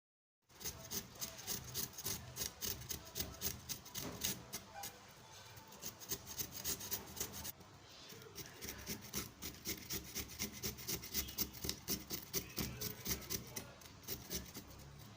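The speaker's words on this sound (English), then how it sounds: "I'm going to be grating my carrot with this grater." A carrot grated on a hand grater, giving steady rhythmic rasping strokes, close and fairly quiet, continuing with a brief pause midway.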